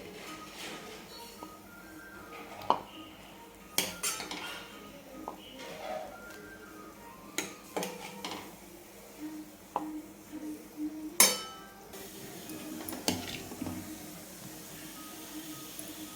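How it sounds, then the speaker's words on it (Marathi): Spicy Maharashtrian masala eggplant curry being scooped from a pan onto a plate: sparse clinks and scrapes of a spoon on metal and dishware, soft and intermittent over a quiet room, with no speech. "तर आता आपण काढून घेऊ एका प्लेटमध्ये."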